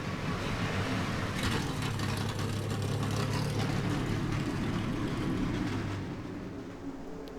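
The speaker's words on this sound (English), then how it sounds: "there you can see these 21 cars rolling off the starting grid as we get prepared for racing at Daytona" Twenty-one stock cars rolling off the starting grid at Daytona in NASCAR Racing 2003, a dense, loud engine drone with a steady low hum that holds, then thins and fades near the end.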